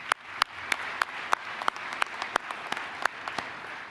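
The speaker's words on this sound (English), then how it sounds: "So a round of applause for all the NFEs out there" Light, sparse applause at an air force base award event, individual claps ringing out distinctly in an uneven rhythm, moderately quiet with no speech over it.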